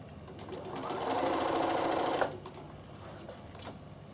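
A Bernina L460 overlocker sewing through a towel whirs up to a loud, fast buzzing run for about a second and a half, then stops, followed by quieter fabric handling and faint background voice.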